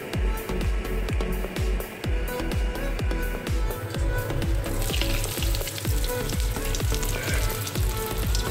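Breadcrumb-coated cheese potato balls frying in hot oil give a steady, dense sizzle with crackling pops throughout, close and continuous with no talk.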